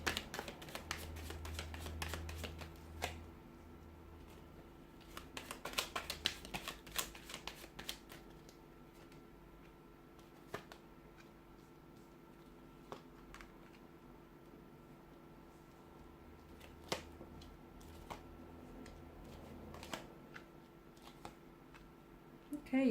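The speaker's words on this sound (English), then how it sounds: "So we'll give the cards a shuffle and see what they're predicting for you." Tarot cards shuffled by hand during a reading, a soft papery riffling and flicking that comes in bursts near the start and again around the middle, faint and close against a quiet room with a low steady hum.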